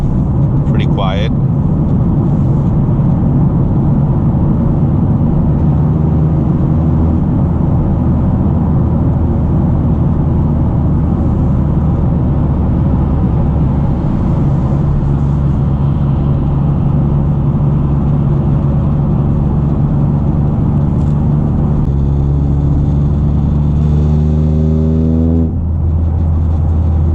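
A 2023 Toyota GR Corolla with an FI exhaust in street mode drives along, a steady droning engine hum and cabin vibration with gear changes and rising revs toward the end, while a person talks over it throughout.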